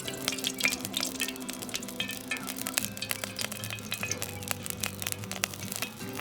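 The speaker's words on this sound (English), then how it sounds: "In a preheated pan, add in some pork fat." Pork fat frying in a preheated pan for a pork and mustard greens dish, a steady close crackling sizzle with scattered sharp pops and light clinks throughout.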